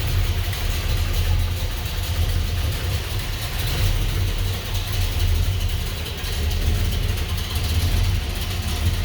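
A 1970 Pontiac LeMans Sport convertible with a newer intake and carburetor idles close by, a loud, steady low rumble with a lumpy beat that rises slightly at moments.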